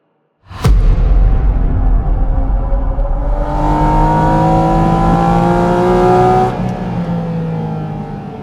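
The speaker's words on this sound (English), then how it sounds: "What you just heard is the bone-shaking sound of a 4-litre naturally aspirated flat-six 911 GT3 engine" A Porsche 911 GT3's 4-litre naturally aspirated flat-six engine starts up and roars loudly, climbing through the revs in sweeping harmonic rises before easing off, close and continuous.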